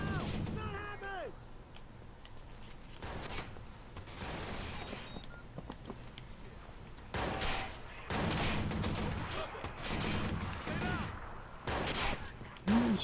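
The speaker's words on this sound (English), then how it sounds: "Who is shooting me?" Repeated gunfire bursts in Watch_Dogs, rapid volleys of shots in several clusters through the stretch, fairly close and loud over ambient game noise, with a voice briefly heard.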